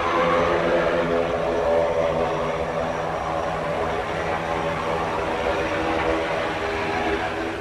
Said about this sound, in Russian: Пилот отключает двигатель.